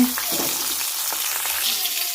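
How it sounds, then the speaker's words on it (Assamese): Fish frying in a pan gives a continuous, close sizzling hiss with faint crackles and no voices. "এয়া মাছ ভাজি হৈ আছে"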